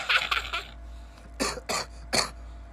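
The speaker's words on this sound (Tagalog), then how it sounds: "Inuubo na ako." Several short, sharp coughs: a quick cluster at the start, then three separate bursts spaced apart after a pause, close and fairly loud.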